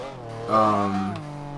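Engine of a 1997 McLaren F1 GT in Forza Horizon 2, a clear harmonic tone that swells as revs climb, then eases back down, heard alone and moderately loud.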